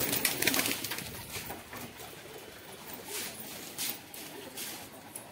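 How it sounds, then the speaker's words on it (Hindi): Pigeons coo on a rooftop loft where newly released birds settle, a steady soft murmuring chorus at moderate distance, with no voices. "बाकी अपने कबूतर ये रहे"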